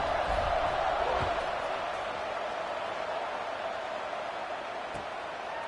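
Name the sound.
football stadium crowd buzzing after a score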